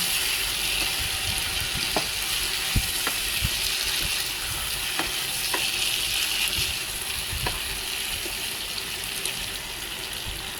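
Patola being sautéed in a pan, a steady close sizzle and hiss of frying with scattered clinks and scrapes of stirring, without talk.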